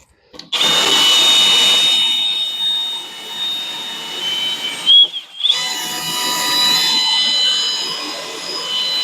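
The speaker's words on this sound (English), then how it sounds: "let's see if we can use this drill instead" A power drill whirs loudly and continuously, briefly stopping and restarting midway, then running on steadily with a high whine.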